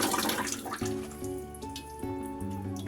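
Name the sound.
running water rinsing a water filter housing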